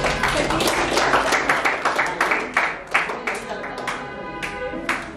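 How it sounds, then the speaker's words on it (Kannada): An audience applauds during a quiz competition at an organisation's third anniversary celebration. Sharp individual hand claps merge into loud, continuous clapping for several seconds, with some background voices. "ಜೋರಾದ ಚಪ್ಪಾಳೆ ಬರಲಿ"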